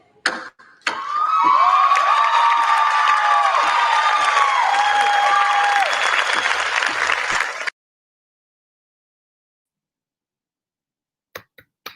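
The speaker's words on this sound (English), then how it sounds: "Clap, clap, clap." Applause and cheers break out from an audience after a hula kahiko performance at the Miss Mokihana competition, dense clapping with whoops for about seven seconds before cutting off to silence and a few faint taps.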